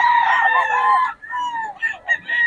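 A Gray Hatch gamefowl rooster crows loudly and close by, one long full crow followed by a shorter broken second call, with no other sounds around it.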